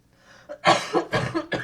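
A woman coughs several times in quick bursts, close and loud, after a faint breathy start.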